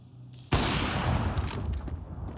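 An AK rifle fires in a competitive shooter video game, a sudden loud burst of gunshots erupting after a brief quiet moment, with rapid reports trailing off.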